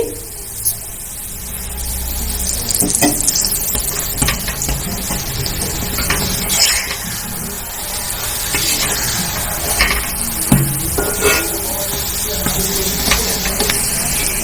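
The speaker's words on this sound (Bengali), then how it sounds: "উল্টো সাইডটা ভালো করে ভেজে নেব এপিট ওপিট করে একটু চেপে চেপে ভেজে নেব" A green peas lachha paratha sizzles in hot oil in a pan, a steady crackling fry with occasional scraping and pressing sounds, no talking.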